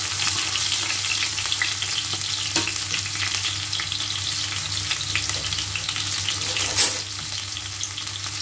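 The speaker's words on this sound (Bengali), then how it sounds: "প্রথমে পেঁয়াজ কুচিগুলো দিয়ে নেব, তারপর রসুন কুচিগুলো দিয়ে নেব।" Chopped onion frying in a pan, a steady dense sizzle with occasional stirring scrapes, loud and close with no voices.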